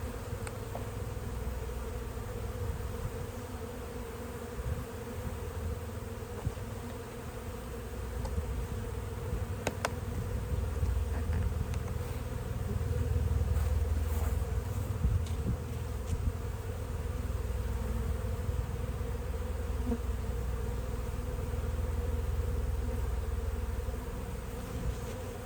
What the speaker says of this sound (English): Look at all those bees.